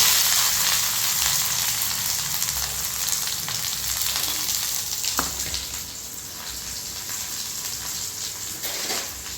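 Shallots sizzle steadily in hot oil in a pan with mustard seeds, dried red chilli and fennel, a continuous bright crackle with a brief stir or scrape midway and no talking.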